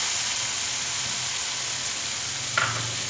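Chicken sizzling steadily in a pan with tomato puree just added, a continuous close frying hiss with a small stir-like clatter near the end.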